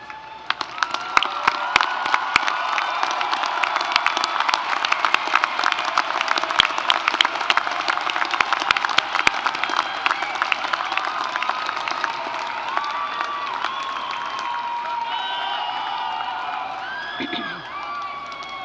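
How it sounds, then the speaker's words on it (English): At a university commencement for engineering, computer science, science and mathematics graduates, the crowd claps and cheers for honors students, with sharp whoops and shouts cutting through steady applause that holds loud for a long stretch before thinning near the end. "rise and receive our applause?"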